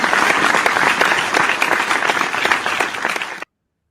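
A round of applause from a small group, dense steady clapping for about three and a half seconds before cutting off to silence.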